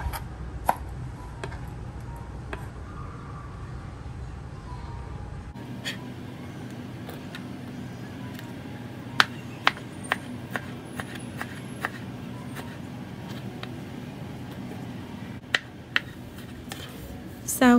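A knife cuts pork fat into pieces for crispy fried pork cracklings, giving sharp, sparse chopping knocks against a board over a low steady background hum, without any talking.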